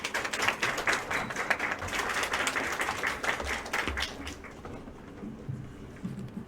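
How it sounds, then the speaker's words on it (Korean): Audience applause at an academic conference in Korea rises as a dense, steady clatter of many hands, then thins and fades out over the last couple of seconds, leaving a faint low room murmur. "박수 부탁드립니다."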